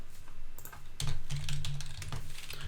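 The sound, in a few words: typing a search phrase on a computer keyboard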